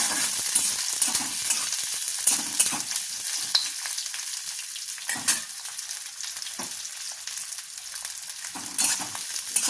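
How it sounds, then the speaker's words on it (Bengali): Onion frying lightly in a pan for chilli rohu fish, a continuous bright crackling sizzle with occasional soft stirring bumps, close and steady throughout. "এবার আমি পেঁয়াজটা দিয়ে দিচ্ছি। একদম হালকা করে ভাজবো।"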